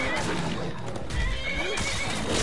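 A horse in a video game neighs loudly with clip-clopping hooves, up close and continuous for a couple of seconds, under a lively mix of game noise and voices.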